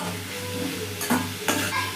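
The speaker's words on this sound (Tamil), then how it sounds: "கோகோனட் ஆயில் ஊற்றிட்டு காயை நல்லா பச்சை வாசம் போகிற வரைக்கும் நல்லா வதக்கிக்கணும்" Vegetables sauté in coconut oil in a pan, a steady close sizzle and fry with a low hum beneath and two brief scraping stirs that break through partway, with no talking.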